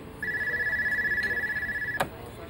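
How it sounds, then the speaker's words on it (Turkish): A telephone ringing indoors with a steady electronic trill that runs for about two seconds and then cuts off, followed by a brief click, with faint background voices. "Cansu Hanım, telefon"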